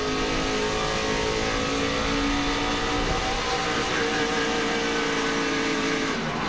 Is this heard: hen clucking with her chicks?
no